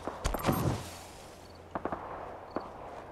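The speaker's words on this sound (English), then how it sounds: "I hear gunfire." A few faint, distant pops of gunfire crackle in the background in Fallout 4, a short burst followed by scattered single shots against a quiet ambient hiss.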